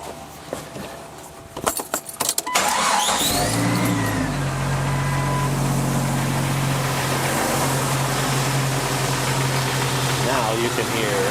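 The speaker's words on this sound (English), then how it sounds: "You can hear the compressor just popped on." A 1999 Jeep Cherokee Sport engine idles steadily after some clicking and rattling, then settles into a constant loud drone with a slight shift in tone as the AC compressor engages; no one speaks.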